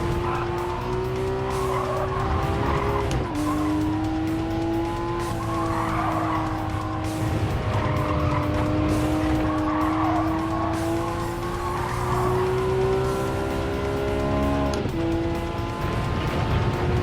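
Tires screech in a long, loud skid as a race car brakes too late in Gran Turismo 7, the engine droning steadily beneath the squeal, with a sharp pitch shift near the end.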